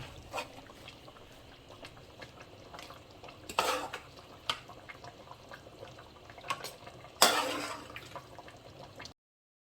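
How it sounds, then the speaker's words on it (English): A spoon stirs pig foot and beans in a pot, giving soft scraping and knocking against the pot with a couple of louder clanks, close up and without talk. "I have to take time to stir it because I don't want the beans to get too smushy or mushy"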